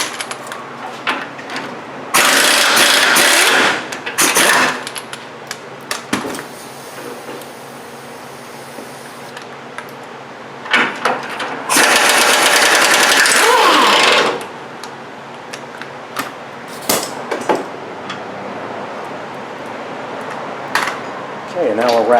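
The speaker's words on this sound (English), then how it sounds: "We are going to use the air gun" Air impact gun zipping out two rack and pinion bolts on a 2000–2006 Toyota Tundra, loud dense bursts around 2–4 s and 12–14 s, with quieter shop noise and ratcheting between.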